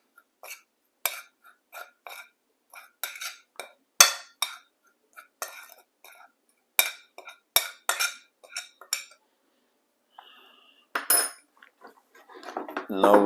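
Dry spices being mixed in a bowl for Jamaican curry fish (onion powder, garlic powder, cayenne and fish seasoning), a sparse series of close utensil clinks and scrapes in irregular bursts against near silence.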